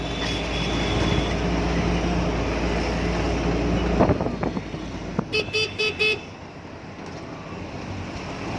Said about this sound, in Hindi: ट्रैफिक भी बहुत है